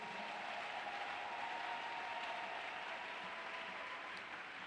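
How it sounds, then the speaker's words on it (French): Church congregation applauding, a dense and even wash of clapping from many hands that lasts the whole few seconds at moderate distance. "Si tu le crois, acclame le Seigneur Jésus"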